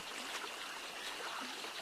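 Flowing water in the survival video game 7 Days to Die, a steady, soft trickling rush like a stream, continuous and fairly faint throughout with no voices.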